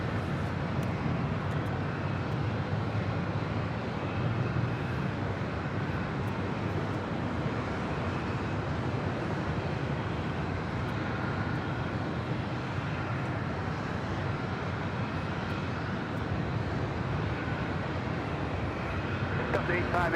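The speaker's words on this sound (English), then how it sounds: "This arrival is Air Canada 560 coming in from Vancouver on a MAX 8." An Air Canada Boeing 737 MAX 8 arriving at LAX from Vancouver gives a steady, broad engine roar that holds at an even level throughout, with no gaps or drop-off.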